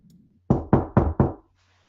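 Four firm, evenly spaced knocks on a solid surface come in quick succession, loud and close, after a moment of near silence.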